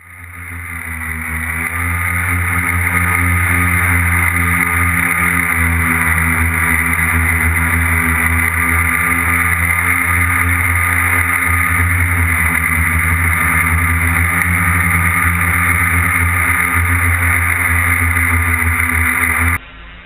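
Steady, loud, high-pitched motor whine from an FPV tricopter drone in flight, holding a constant droning pitch for the whole stretch before cutting off abruptly at the end.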